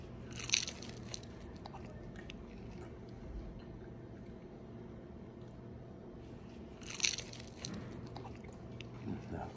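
Two sharp crunchy bites into Totino's frozen pizza rolls, one near the start and one later, with quieter chewing and background noise between them and no talking.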